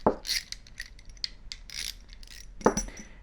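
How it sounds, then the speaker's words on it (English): A 1/4 inch socket wrench backs a 1/4 inch nut off the knurled knob of a Harris BRM-S bipod, giving a few close, quick ratcheting clicks and metallic ticks with brief pauses between them. "grab your wrench, and this is a 1/4 inch socket, and we have a 1/4 inch nut right here on the end of the knurled knob"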